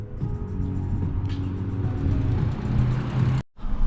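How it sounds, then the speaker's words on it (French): Inside a moving Tesla car in Australia: a steady low road rumble and cabin hum, close and continuous, rising slightly before a brief dropout near the end. "je suis monté dans la voiture que Phoenix et Yorouk avaient trouvée, c'est-à-dire une Tesla"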